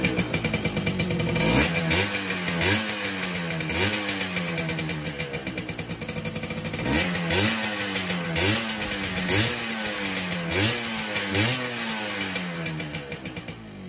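A Yamaha F1Z R motorcycle engine idles and is revved repeatedly, each blip rising and falling in pitch in a steady rhythm, loud and close with no talk.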